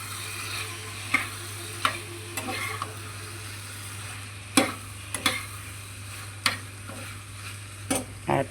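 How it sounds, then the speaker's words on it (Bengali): Potato masala with black pepper powder being stirred in a frying pan, a steady sizzle under scattered sharp scrapes and knocks of the spoon against the pan, close by, with no talking. "এবার একটু নেড়ে নেব।"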